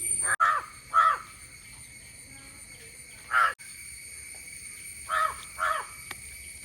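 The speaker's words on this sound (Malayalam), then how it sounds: "കാക്ക വിരുന്ന് കുടിക്കുന്നു നോക്ക്" Several crow caws ring out in short bursts, two near the start, one midway and two more toward the end, over a quiet steady background hum.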